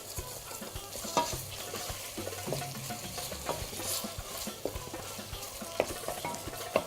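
Onions for a chicken and olive tajine fry in a pan and get stirred, a soft steady sizzle with repeated scraping knocks of the spoon, fairly quiet and with no speech.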